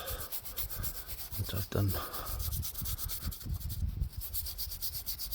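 Rhythmic scrubbing across the weathered face of a 17th-century gravestone, quick rasping back-and-forth strokes at close range, with someone speaking briefly over it.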